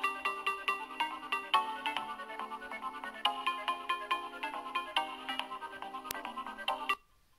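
An LG G Watch's Find My Phone function sets a phone ringing: a bright, repeating melodic ringtone with rhythmic pulses that plays for about seven seconds, then cuts off.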